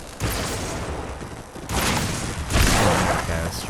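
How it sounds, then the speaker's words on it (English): A mini nuke goes off in Fallout 4, a run of loud, heavy booming blasts in several bursts, with speech faintly present under the noise. "Should take a atomic mini bomb,"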